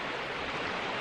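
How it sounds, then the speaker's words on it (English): Snowmelt creek rushing along the bottom of Black Canyon of the Gunnison, a steady broadband wash of flowing water, close and continuous with no voices. "The creek in the background."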